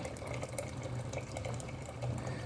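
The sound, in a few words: water poured onto fava beans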